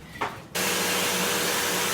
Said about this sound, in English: this is what the vacuum cleaner is for